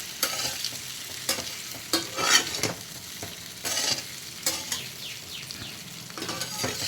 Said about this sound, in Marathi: तसं तेलामध्ये फोडणी द्यायचं